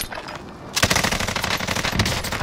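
Rapid automatic gunfire in Call of Duty: Modern Warfare bursts in after a quiet moment, a close, loud, continuous stream of shots.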